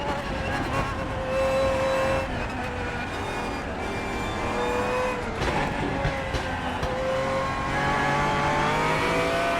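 A Pagani Zonda race car in a sim racing game roars loudly and continuously, its engine pitch climbing through revs and dropping briefly at gear changes, with no talk over it.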